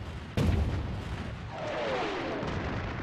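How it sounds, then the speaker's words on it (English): A WWII artillery barrage booms with one heavy, sudden blast followed by a sustained rumbling roar and a descending whistling whine, loud and dense throughout. "Montgomery launches his offensive with a preliminary artillery barrage, followed by a massive tank assault"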